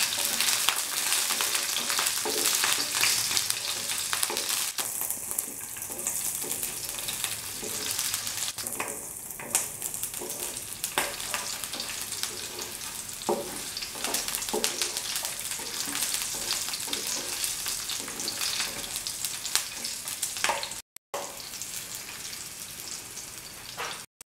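Garlic, green chili and salt sizzle steadily in a hot pan, a loud continuous frying hiss with crackling spatters and a couple of stirring shifts, no talking, ending with a brief cut near the close.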